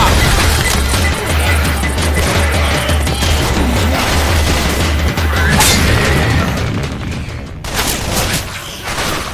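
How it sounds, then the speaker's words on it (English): Pipe bomb explosions in the zombie shooter Left 4 Dead 2 create a loud, continuous roar of blasts and crashing debris that hardly lets up, with one sharp burst standing out near the end. "Pipe bomb."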